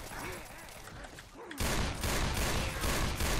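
Loud, rapid bursts of gunfire from the zombie shooter game Left 4 Dead 2 on the Innes Road map, with continuous overlapping shots that intensify midway, while a voice talks over the shooting.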